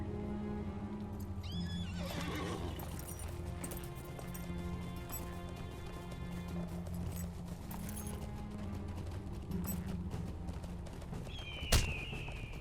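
Horse ridden in the online game Lord of the Rings Online, with a whinny and galloping hoofbeats over steady game music and ambience, ending in a sharp bright burst near the end.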